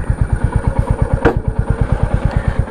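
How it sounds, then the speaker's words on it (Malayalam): Royal Enfield Bullet 350 from 2023 with a chrome finish, its exhaust thumping in a steady, even beat at idle. The pulse is loud and close, with no talk over it. "ഇതാണ് എക്സോസ്റ്റ് നോട്ട്."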